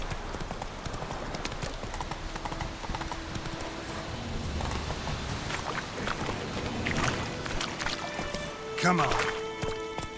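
Hooves of Roach, the horse in The Witcher 3: Wild Hunt, clip-clopping in a steady rhythm under game sound, with a voice speaking briefly.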